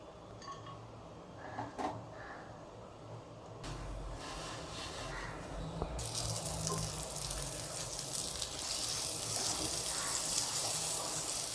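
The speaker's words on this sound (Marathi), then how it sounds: "पाव आता मी भाजून घेणार आहे. तवा गरम झाला, त्यावर बटर टाकून घेतला आहे मी." Pav buns toast in butter on a hot tava griddle for dabeli, a quiet sizzle that rises and holds steady in the second half after some faint handling noises.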